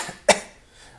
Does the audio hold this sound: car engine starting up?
no